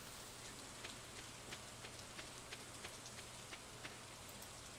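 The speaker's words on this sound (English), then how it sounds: "Of course it's raining." Rain falls on an island in the Stardew Valley video game. It is a faint, steady hiss with soft, scattered drops pattering throughout, and no one speaks.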